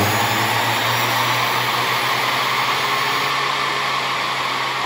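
A treadmill motor fitted to a lathe runs below full speed. It gives a loud, continuous electric whine with a steady low hum, and no pauses or voices are heard.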